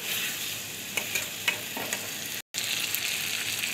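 Crab cooking with tomato sauce in a pan, stirred and fried over steady sizzling, with a few scraping spatula knocks over the hiss and a brief dropout midway; no voices.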